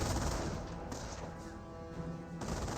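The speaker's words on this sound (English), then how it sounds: "Sounds like they're just load up with a regular bolt action rifle squad" Bolt-action rifle squad trading fire in a Company of Heroes battle, a dense wash of muffled gunshots and dull thuds rolling steadily at a distance with no single crack standing out.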